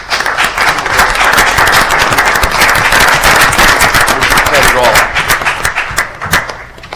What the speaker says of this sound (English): Let's have a round of applause for Rich DiCarlo.